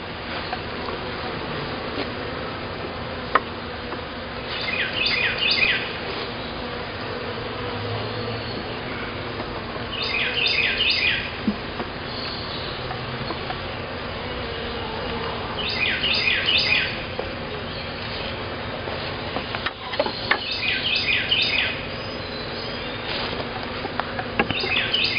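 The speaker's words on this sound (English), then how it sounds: "A lot of bees up near the top." A steady insect drone fills the air throughout, with a dense hum of many honey bees around a hive and no voices.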